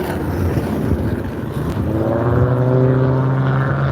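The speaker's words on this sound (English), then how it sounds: "You see the muscle cars that just drove by?" Muscle cars and other high-performance cars drive past on the street outside, a loud continuous engine rumble that thickens into a rising, droning roar midway as one passes close by.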